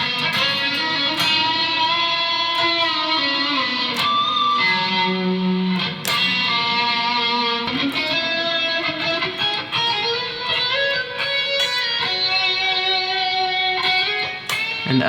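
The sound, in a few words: delay effect on music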